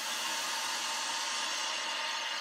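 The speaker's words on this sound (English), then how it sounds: "So I'm gonna use my crappy little blow dryer here for a second." A small handheld blow dryer blows hot air in a steady, even rush of noise, close up, with no talking.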